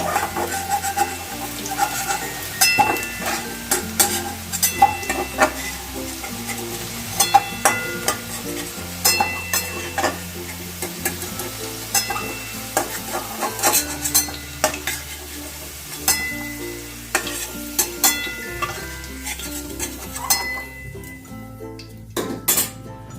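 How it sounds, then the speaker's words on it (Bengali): Potato pieces frying in a pan while a metal spatula stirs them, producing a constant sizzle broken by frequent scraping and clinking strokes against the pan, close and fairly loud. "আলুগুলোকে একটু লাল লাল করে ভেজে নেব"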